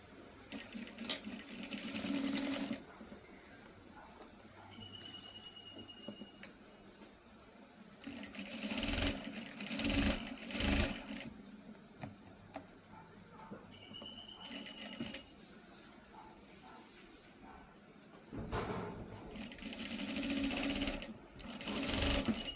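An electric sewing machine stitches a saree blouse in loud bursts of rapid mechanical whirring and clatter, separated by quieter pauses, with no talk.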